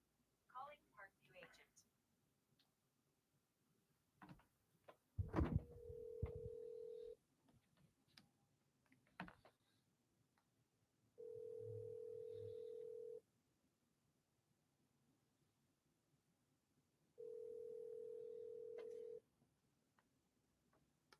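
A telephone call rings out while waiting for an answer, with three separate long ringback tones spaced evenly apart, preceded by short dialing beeps and quiet background talk.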